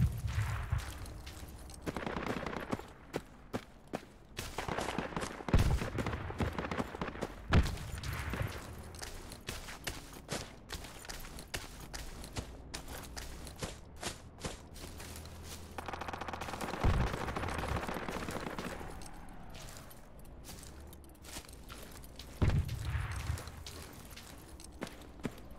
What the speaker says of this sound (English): Shit, taking a sniper fire from the northeast.